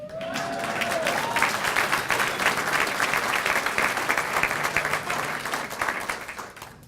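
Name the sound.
audience applause and cheering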